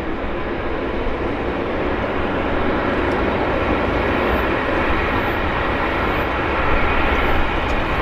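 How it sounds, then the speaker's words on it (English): A Jazz Q400 turboprop airliner bound for Seattle passes at Vancouver Airport, a loud, continuous broadband roar that holds steady and swells slightly near the end, with no talking. "So here comes a Q400."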